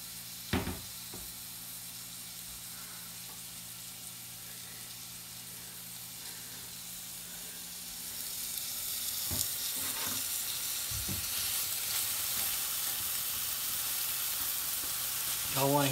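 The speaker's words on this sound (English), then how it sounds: "wait for these steaks to cook" Steaks sizzling in a pan, a steady close frying hiss that swells louder partway through, with a few soft knocks and clinks and no talking.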